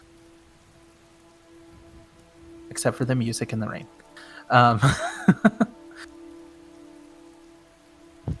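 Rain falls as soft, steady background patter in a tabletop role-playing session, sitting under a constant low tone while a person speaks in short bursts.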